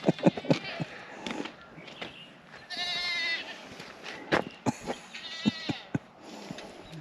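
Goats on a farm bleat several times, loud and close, amid clattering handling noises and faint background talk.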